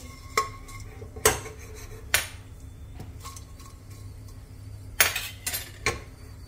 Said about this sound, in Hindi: कुछ सेकंड के लिए नारियल को भी भून लेंगे।